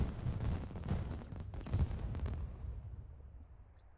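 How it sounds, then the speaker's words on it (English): Fireworks in the video game The Sims 4, a run of muffled booms and crackling bursts that rumble for a few seconds before fading into quiet. "Sounded like fireworks."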